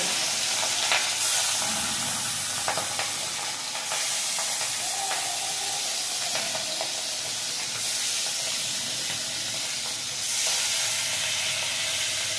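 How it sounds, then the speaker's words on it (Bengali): Tengra catfish fry in hot oil with a loud, continuous bubbling hiss and scattered spits and crackles, close and steady throughout, no speech. "আমার তেল গরম হয়ে গেছে, আমি ট্যাংরা মাছ কটা একটা একটা করে দিয়ে দেবো"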